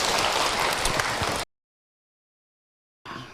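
Audience applause at an Islamic Ramadan talk, a dense wash of clapping for about a second and a half, then a gap of silence before the clapping briefly resumes.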